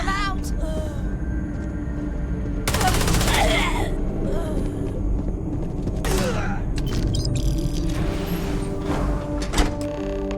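Bursts of gunfire in the sci-fi shooter Starfield, with loud broadband blasts around three and six seconds and scattered shots later over a constant low game rumble, with voices talking at times.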